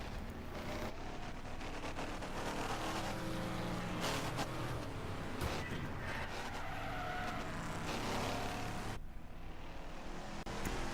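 Race cars battling for position on a speedway oval during a speedway and figure 8 event, engines roaring steadily and loudly throughout with tire skids and passing whooshes, no talk.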